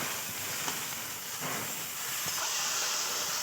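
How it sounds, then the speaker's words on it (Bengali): Okra frying in oil gives off a soft, steady hiss with faint crackles, fairly quiet and even from start to finish. "বন্ধুরা ঢেঁড়সটা আমি ভেজে নিচ্ছি"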